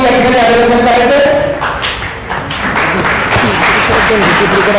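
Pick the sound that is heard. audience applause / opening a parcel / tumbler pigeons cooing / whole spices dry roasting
audience applause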